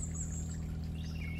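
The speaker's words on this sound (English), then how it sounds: "I have no idea what kind of bird that is. I think it was, I thought it was a cardinal." Outdoors, a songbird gives thin, high whistled calls, including a longer note and a falling phrase. The calls are fairly faint over a steady low droning hum, with no talking.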